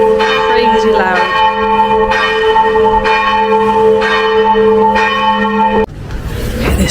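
Church bells ring very loud and close in the bell tower of Split, Croatia, with repeated strong ringing strokes and long sustained tones for about six seconds before the sound breaks off into rushing ambient noise.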